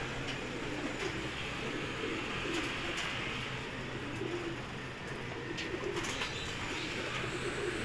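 Pigeons in a fancier's loft coo faintly and steadily against a dense, continuous bed of bird noise and room ambience, with no talking.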